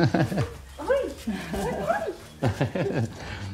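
A dog whimpers, yips and gives short barks in a close, excited run of high whines, loud and near, with a few soft voices in the background.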